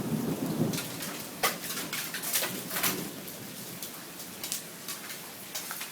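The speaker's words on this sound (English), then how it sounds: "The hail's settling down." A hailstorm pelts surfaces in a dense, steady clatter, with low rumbles of thunder rolling underneath and sharper impact bursts now and then.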